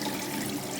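Tap water runs steadily and loudly in a continuous rushing stream while a fascia massager is rinsed off.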